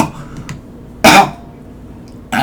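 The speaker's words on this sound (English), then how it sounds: "I started coughing" Two short, sharp coughs from a person stand out against a quiet room, one near the middle and one at the end, with softer throat noises before them.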